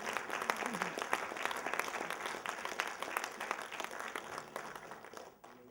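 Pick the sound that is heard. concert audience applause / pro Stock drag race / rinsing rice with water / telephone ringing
concert audience applause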